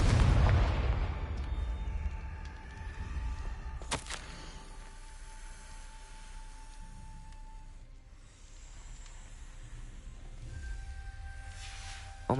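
Magical blasting-spell explosions in Hogwarts Legacy: a booming burst at the start, then a sharp crack near four seconds, each trailing into a low rumbling tail over ambient game sound.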